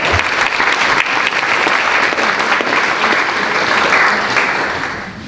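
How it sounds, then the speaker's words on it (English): A crowd at a 25th anniversary Kinte-Haley memorial reception dinner claps in a round of applause. The dense, steady clapping is fairly loud and continues for several seconds before tapering off at the end. "Let's give her a round"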